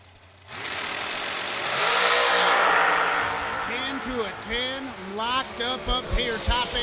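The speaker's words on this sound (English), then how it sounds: "that was a drag race right there" Drag race cars roar down the strip, a loud engine rush that swells and fades within a few seconds before an announcer's excited commentary takes over, with engine noise still underneath.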